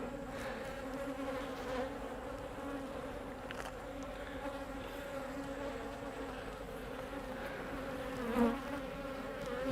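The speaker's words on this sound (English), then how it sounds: "So all these bees in here are old bees" Honey bees buzz steadily throughout a beehive inspection, a dense, continuous hum of many insects close by, with a brief louder swell near the end as bees pass near.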